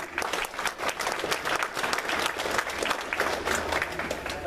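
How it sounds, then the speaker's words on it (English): A seated audience at a county patriots meeting gives a warm round of applause, dense and continuous clapping with a few louder bursts, no talking over it. "So please give him a round of applause."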